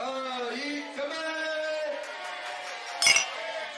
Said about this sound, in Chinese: 服务员在一顿活跃气氛后，邀请全场人一起干杯